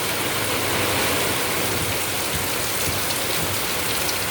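Heavy monsoon rain pours down steadily and loudly, a dense unbroken hiss of drops on surfaces with no voices.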